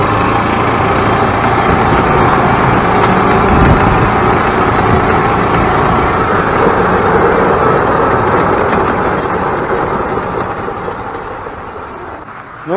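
A rebuilt Yamaha G16 golf cart engine runs at a steady, loud, continuous drone with a rough mechanical rumble, easing slightly toward the end, with no talking.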